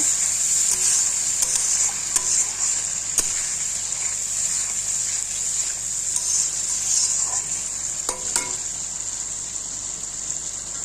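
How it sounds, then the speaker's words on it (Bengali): Spice paste for a fish curry with lentil dumplings fries with a little added water, giving a loud, steady hiss of sizzling with a few sharp clicks from stirring throughout. "এখন একটু জল দিলাম, একটু জল দিয়ে একটু কষে নিই"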